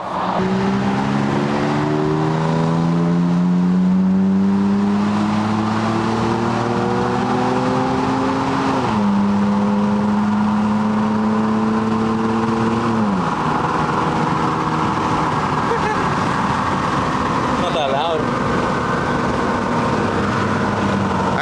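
A Toyota Tacoma pickup with an AWE true dual exhaust revs up loudly through the gears in a quick 0 to 60 run, pitch rising then dropping at each shift, with a deep steady exhaust rumble.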